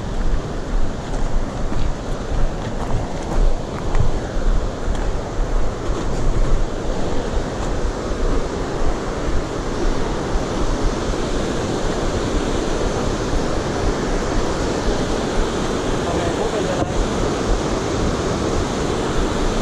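A small waterfall in a river canyon near St-Narcisse-de-Rimouski, heard as a steady, dense rush of falling water that holds evenly throughout without pauses, moderately loud and alone with no voices.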